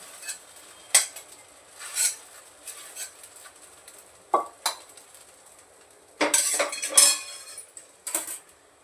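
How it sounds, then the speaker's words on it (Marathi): Sabudana khichdi being scooped from a hot kadai into a tiffin box, with sharp scattered clinks and scrapes of a spoon against metal, a few louder clatters near the end, no talk. "जे डब्यात द्यायचे त्यांना त्याच डब्यामध्ये काढून घेते"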